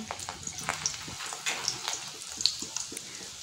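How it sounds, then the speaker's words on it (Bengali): Catla fish and roe fritters frying in oil, a close, light sizzle broken by irregular crackles and small spits, with soft clatter now and then. "বড়াগুলো ভাজছি"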